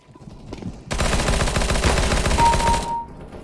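Rapid automatic gunfire from the video game CS:GO, a loud dense burst of shots lasting about two seconds, alone without talk, starting abruptly and cutting off sharply.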